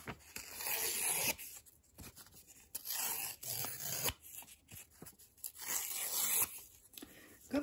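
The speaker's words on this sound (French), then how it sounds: "vous allez prendre le papier et vous allez déchirer les bords" A sheet of paper being torn around its edges by hand, giving repeated rough ripping bursts in short runs separated by brief pauses, close and fairly loud.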